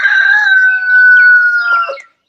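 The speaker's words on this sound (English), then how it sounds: "is a loud rooster" A loud rooster crows once in a long, sustained, close call that trails off, then silence with a faint click at the end.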